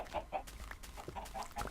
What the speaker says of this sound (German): So, Hühner, jetzt müsst ihr euch ein bisschen vermehren.